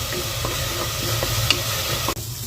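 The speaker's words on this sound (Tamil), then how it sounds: "ஆயில் சூடானதுமே நம்ம இந்த அரைச்ச மசாலாவை இதுல ஆட் பண்ணிடலாம். இதை நல்லா ஆயில்ல வதக்கி எடுக்கலாம்." Ground masala sautés in hot oil inside a pressure cooker, giving a steady sizzle with a few stirring scrapes, close and clear, until a sharp drop near the end.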